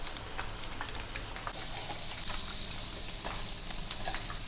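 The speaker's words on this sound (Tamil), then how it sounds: "மீதி இருக்க எல்லா சில்லி சிக்கனையும் பொரிச்சு எடுத்துடலாம்." Chilli chicken pieces deep fry in hot oil. The sizzle is a continuous, fine crackle with scattered pops, fairly quiet and steady throughout with no voices.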